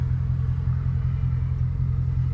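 A Dodge Scat Pack engine with a cold air intake rumbles low and steady, a deep throaty idle with slight pulsing, close by and without talk.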